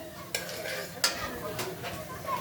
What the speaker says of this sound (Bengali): এখন ফোড়ন দিয়ে দিলাম পাঁচ ফোড়ন আর শুকনো মরিচ